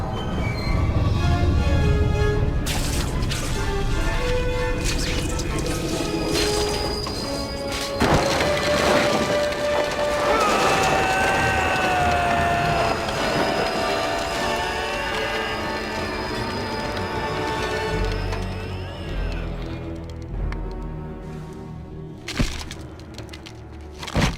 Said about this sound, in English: I've got to stop this train.